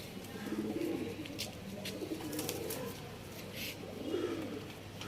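A pair of dubas pigeons, one male and one female, coo softly in a low rolling rhythm over a constant background hum, with faint chirps from other birds scattered through.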